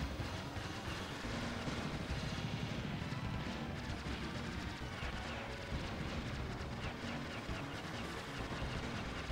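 A player ship in the SNES shooter Aero Fighters fires a constant barrage of shots amid dense explosions and game noise, loud and continuous without a break.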